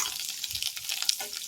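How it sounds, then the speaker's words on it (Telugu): Whole spices for a tempering frying in hot oil for mango pulihora, a steady close hiss and crackle of sizzling that keeps going without a break. "పోపు దినుసులు వేసి పోపు దోరగా వేయించుకుందాం"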